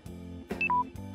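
A mobile phone gives a short two-tone electronic beep, a higher note falling to a lower one, as its battery dies, set against a soft repeating background tone.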